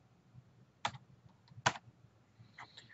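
Two or three brief bursts of typing on a computer keyboard, quiet and close, with sharp clustered key clicks separated by near silence.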